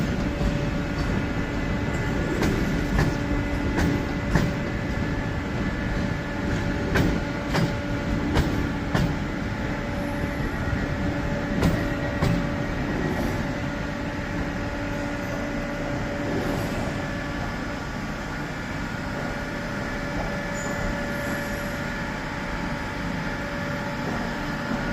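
Class 350 electric train at Birmingham New Street station, a steady rumbling hum with faint tonal whine and occasional clanks, continuous at moderate level with no talk.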